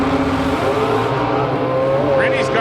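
Slingshot dragster with a 620-cubic-inch nitrous-fed big block Chevrolet engine roaring loudly and continuously at a drag strip, the engine note holding high and harsh throughout, with an announcer talking over it.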